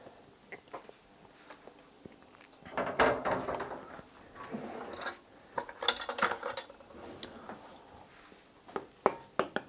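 A spoon working self-raising flour into a Christmas pudding mixture in a bowl, uneven bursts of scraping and clinking against the bowl with quieter gaps, fairly close and moderately soft.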